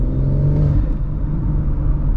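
BMW M140i engine during a 0-60 acceleration run, a loud, steady low rumble and drone of the straight-six with road and cabin noise filling the background, no voices.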